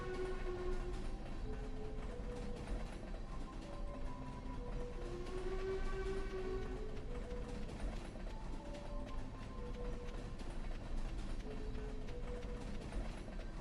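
A train rolls past in the Stardew Valley farming game, a steady mechanical rattle and clatter of wagons with soft tonal hums drifting in and out, continuous and even throughout with no voices.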